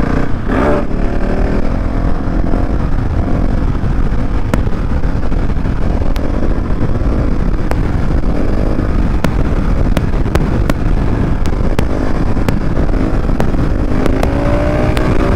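A KTM SMC R 690 motorcycle's engine drones and revs steadily while it is ridden doing wheelies, largely buried under loud, continuous wind roar buffeting the microphone throughout.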